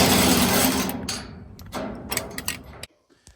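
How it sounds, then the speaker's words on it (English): An impact wrench with a long 3/4 inch socket working the bolt on a Kendon trailer caster, hammering in a loud rattling burst that breaks into shorter stuttering hits before cutting off. "I've got a long 3/4 inch socket on my impact"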